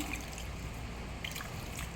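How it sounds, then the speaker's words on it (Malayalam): Water pours softly into a pan of ivy gourd and dried prawns, a low steady trickle with a few faint drips, quiet and close. "ഇനി വെള്ളം ഒഴിച്ച് കൊടുക്കാം"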